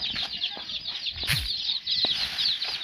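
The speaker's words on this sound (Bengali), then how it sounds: "এই মুরগির বাচ্চাগুলো চেপচেপ করতেছে" Young chickens outdoors before a storm keep up a dense, high, continuous chirping at close range, with a few sharper calls and a brief low cluck partway through.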